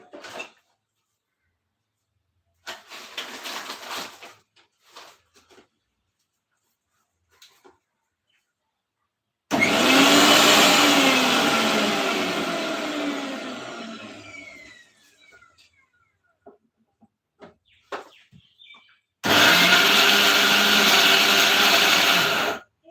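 A mixer grinder jar kneads chapati dough in two loud motor bursts, a long whirring run that slowly fades and a second short burst, with quiet clattering and handling sounds between them.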